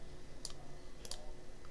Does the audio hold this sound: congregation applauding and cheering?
no